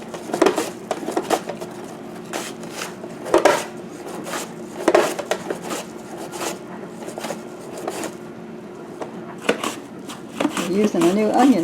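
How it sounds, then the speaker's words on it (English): A new onion slicer cuts through onions with repeated crisp chopping clacks and rubbing scrapes in an uneven rhythm, with some voice in the background. "This is my new onion slicer."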